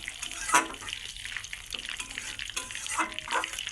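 Bay leaves and whole chillies sizzle in hot oil in a pan while being stirred, a continuous soft frying hiss broken by a few scraping sweeps of the spoon.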